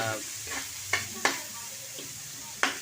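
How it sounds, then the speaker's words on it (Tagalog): Carrots and garlic sauté in a hot pan with a steady sizzle, punctuated by four or five sharp scraping taps of a spatula stirring against the pan, close and moderately loud. "Medyo matigas to kaya unahin natin ng gisa"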